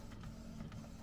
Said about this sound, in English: the printer.